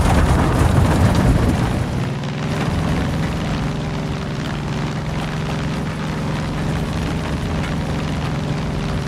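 Helicopter flying in the Far Cry 5 video game: a continuous, fairly loud roar of engine and rotor wash with a steady low hum running through it, holding constant throughout.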